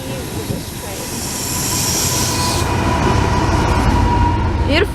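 A freight train with a rear-end DPU locomotive rolls past in Florida, a steady rumbling wheel roar building in loudness, with a squeal near the end.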